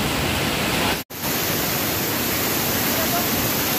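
A steady, loud rush of water from Amboli Waterfall at Amboli Ghat, a dense broadband roar that drops out for an instant before resuming unchanged.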